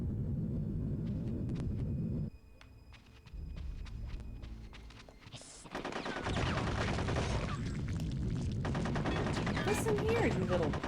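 Gunfire in the video game Conker's Bad Fur Day, with rapid bursts of shots and rumbling explosions filling the mix, pausing briefly midway before resuming loudly.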